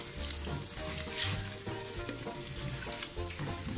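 Sliced onions fry in a generous amount of oil for beef biryani, a dense, continuous, fairly quiet sizzle heard alone with no talking.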